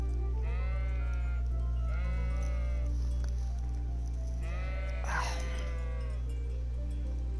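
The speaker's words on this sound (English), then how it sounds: "Look at all the sheep!" Three drawn-out sheep bleats in Kingdom Come: Deliverance, one after another with short pauses, over a steady low hum.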